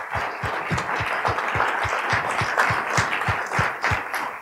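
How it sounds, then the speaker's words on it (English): A church congregation at a baptism service claps in a steady, rhythmic beat, even claps spaced about a third of a second apart over a soft bed of crowd noise. "Give Trevor a big round of applause as he comes up."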